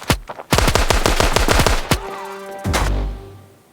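M4 rifle fire in a video game: rapid bursts of loud, closely spaced automatic shots, then a final single shot and a lingering mechanical ring and echo.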